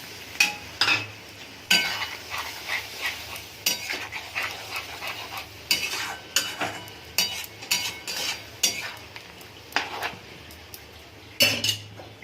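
Potatoes frying with poppy seed paste for aloo posto are stirred, with a spoon scraping and clinking against the pan in repeated close strokes while water is poured in and the mixture sizzles softly underneath.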